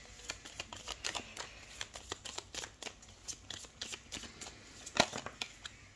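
Tarot cards are shuffled by hand up close, a quick run of soft riffling flicks and taps that ends in one sharper slap near the end, with no talking.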